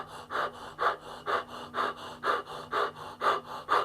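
A person imitates a wolf's breath with the throat, producing loud, rhythmic rasping breaths, about eight evenly spaced huffs close to the listener with no talking.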